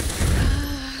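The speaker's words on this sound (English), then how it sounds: "these wooden boxes exploded, and that's what hit me" Wooden boxes explode in a video game, giving a short, loud burst of broadband noise with a heavy low rumble that quickly trails off.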